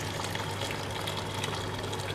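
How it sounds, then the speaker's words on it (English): Boiling water pours steadily into a pot of cooking rice, making a continuous close gushing and splashing rush with no speech over it. "So now we add the rest of our boiling water."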